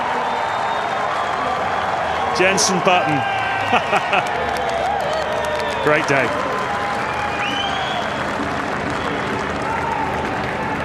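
A grandstand crowd at the 2004 Malaysian Grand Prix cheers and applauds Formula One driver Jenson Button, a steady roar of clapping and shouts with a few louder whistles, while someone speaks briefly over the noise.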